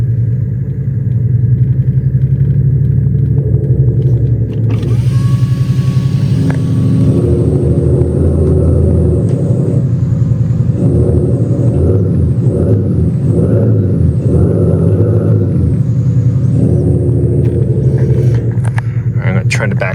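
A synthetic V8-like engine hum from an electric car's sound generator rises and falls in pitch inside a Ford Mustang Mach-E, steady and close, with people talking over it.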